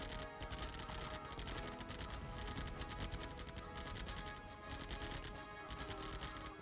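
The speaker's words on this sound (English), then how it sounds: "Buggies getting shot over there." In Command & Conquer Remastered, Nod buggies come under fire, with rapid, dense rattling gunfire from units fighting across the battlefield, heard faintly and continuously throughout.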